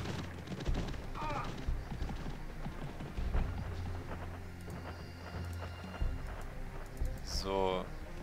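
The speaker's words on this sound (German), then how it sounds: "das ist wieder ein Pferd" Horse hooves in the Robin Hood game, a steady clip-clop of hoofbeats moving along at moderate volume, with someone talking over them and a few brief clanks and chirps.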